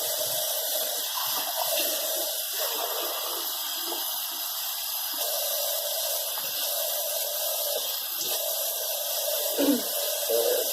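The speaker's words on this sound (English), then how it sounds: "I'm kind of adjusting the water here so that it's the right temperature" Running tap water hisses steadily while being adjusted to a warm temperature, a constant close splashing stream with small bumps as the flow shifts.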